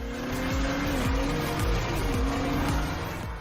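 A BMW X4 M40i from 2021 pulls hard from a standstill, its engine note climbing and dropping through several quick gear changes, loud and close with tire noise underneath.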